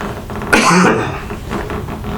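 A single loud cough bursts out close by, with low rumbly room noise continuing around it.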